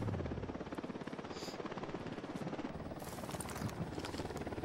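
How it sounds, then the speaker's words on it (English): A helicopter in the Ghost Recon Wildlands video game drones steadily with a fast rotor chop, holding loud and continuous throughout with no voices. "Chopper's approaching."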